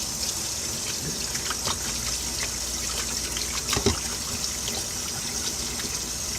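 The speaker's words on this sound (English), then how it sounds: "I'm going to have to turn the water on again" A kitchen water tap runs steadily into a sink, a continuous close splashing hiss with occasional louder spatters and clinks, with no talking.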